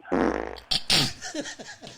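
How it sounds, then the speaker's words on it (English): A loud, close fart rasps for about half a second, followed by a burst of noisy voices and laughter. "Dude, enough of the farts."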